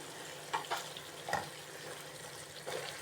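Beef and onions sizzling in a pan while being stirred, with a steady frying hiss broken by a few sharp scraping clatters of the utensil, close and alone with no talk.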